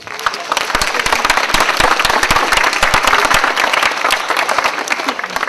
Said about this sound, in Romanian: Vă rog frumos să-i aplaudați